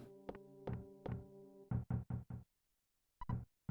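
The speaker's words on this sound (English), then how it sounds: "Someone's knocking at the door." Door knocking in the SNES game EarthBound, sounded as a chiptune knock pattern: three tonal knocks, then four quicker thuds, a pause, and two more, clean and loud with no talk.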